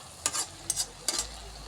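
Ash gourd leaves frying in a pan, with three distinct bursts of scraping stirring over a soft steady sizzle, close and fairly quiet.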